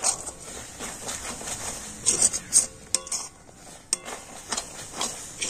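A spoon stirs chopped cashews and pistachios through a damp semolina mixture for laddoos, making intermittent scrapes, clinks and taps against the pan, sometimes sharp and close.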